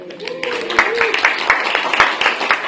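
An audience claps at the Yen Handover Ceremony 2015, a steady run of scattered, moderately loud claps under a speaking voice.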